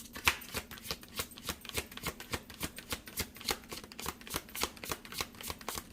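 Tarot cards shuffled steadily in quick, even riffling bursts, close and fairly quiet, with no talking.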